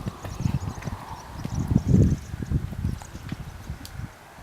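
A horse trots on a circle in a riding arena, its hooves thudding in a steady rhythmic clip-clop, close and fairly loud, with faint rustling in the background and no talk.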